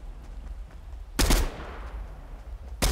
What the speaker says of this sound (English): Are you shooting Clombo?